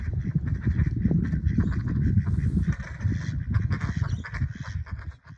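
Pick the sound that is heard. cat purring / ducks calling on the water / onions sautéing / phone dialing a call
ducks calling on the water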